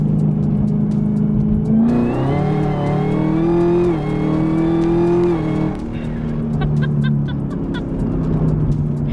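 A 2018 Camaro ZL1 engine revs hard close by, its exhaust roaring as a high supercharger whine climbs and falls with each pull.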